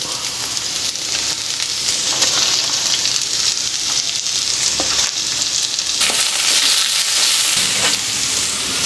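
Onions frying loudly in hot oil in a pan for carrot pachadi, a dense continuous sizzle close up with occasional stirring scrapes and a brief shift in the hiss partway through.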